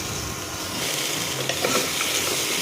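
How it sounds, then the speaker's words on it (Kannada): Cut vegetables are tossed into a hot pan with ginger-garlic paste for vegetable pulao, giving a loud, steady sizzle with scraping stir noises. "ಇವಾಗ ನಾನು ಕಟ್ ಮಾಡ್ಕೊಂಡಿರೋ ಎಲ್ಲ ವೆಜಿಟೇಬಲ್ಸ್ ಹಾಕ್ತಿದ್ದೀನಿ."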